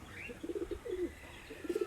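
Pet pigeons in a flock cooing softly, repeated pulsing throaty coos in uneven bursts over quiet background rustle, with a brief higher chirp early on.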